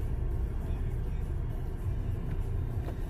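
Steady low engine rumble from a Harrier car driven in second gear during a driving lesson, continuous and close, with a faint voice now and then underneath.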